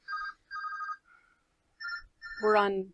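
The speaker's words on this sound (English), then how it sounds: "I don't know if it's going to stop ringing." A telephone rings in repeated short electronic bursts with gaps between them, close and clear, and a voice starts talking over the last ring.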